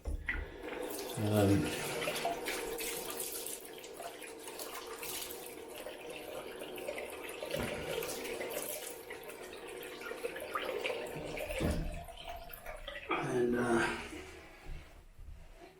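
A stainless steel Edwin Jagger DE89 safety razor rinsed under a running bathroom tap, water splashing steadily for several seconds with brief knocks against the sink, and someone speaking over it at times.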